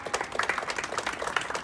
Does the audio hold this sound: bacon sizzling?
no